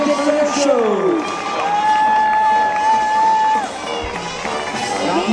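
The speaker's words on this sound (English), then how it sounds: "a great cheer" A crowd at the Westernaires 2017 White Division show cheers for the clowns in a loud, sustained roar, with a voice calling out above the noise.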